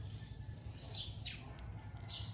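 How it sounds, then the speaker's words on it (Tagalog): A few faint, high bird chirps in a small garden in the morning come through at irregular moments over a steady low outdoor hum. "Naririnig nyo ba guys yung ano? Mga ibon?"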